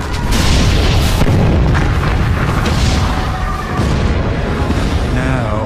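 Bombs explode in a wartime documentary scene, heard as a loud, continuous rumble of booms and blasts that fills the whole stretch, dense and close with no pauses.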